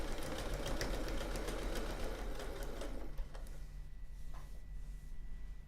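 A sewing machine stitches a quilt seam up to a pin, running in a dense, steady mechanical whir for about three seconds, then dropping to a softer, quieter hum.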